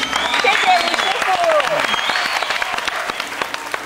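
Applause from a studio audience on a cooking show: dense, steady clapping that continues throughout, with a voice speaking over it.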